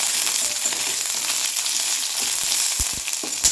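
Ivy gourd sautéing in oil in a pan for a kovakkai masala, giving a steady, close, bright sizzle with a few soft stirring knocks near the end and no talking.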